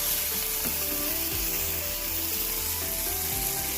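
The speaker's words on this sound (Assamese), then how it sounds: "মিডিয়াম ফ্লেমত আছে, গতিকে 3-4 মিনিটমানৰ কাৰণে আমি ধুনীয়াকৈ বিলাহীখিনি সিজিব দিম।" Tomatoes cooking in a pan over a medium flame, giving a steady, close sizzle and hiss with a few faint scrapes of stirring, and no voices.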